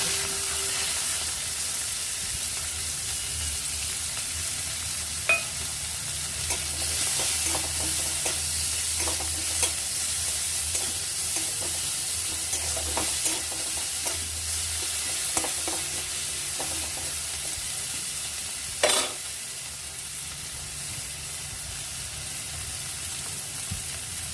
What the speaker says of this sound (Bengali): আরও 1 টেবিল স্পুনের মতো তেল অ্যাড করে দিলাম। এবার দিয়ে দিচ্ছি পেঁয়াজ।